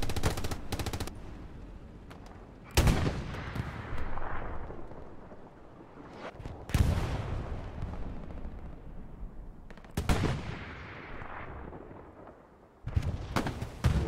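Strafing-run airstrike and heavy gunfire in a war video game: loud bursts of rapid machine-gun fire and booming impacts recur every few seconds, each fading into a rumbling tail before the next volley.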